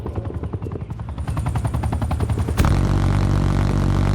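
An attack helicopter hovers overhead in the shooter Call of Duty: Black Ops 4, its rotor chopping in a steady rapid pulse. Partway through, a sharp impact gives way to a loud, dense, continuous roar.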